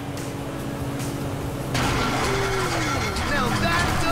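A failing boat engine in a video game sputters and labors unevenly, then shifts to a rougher, louder running sound with whining tones, steady and close throughout.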